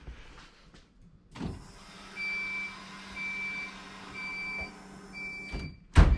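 A car's fuel pump priming on a turbocharged Vitara D16 swapped into an EF hatch, a thin electric whine holding steady for several seconds between clunks and a sharp knock at the end, no voices.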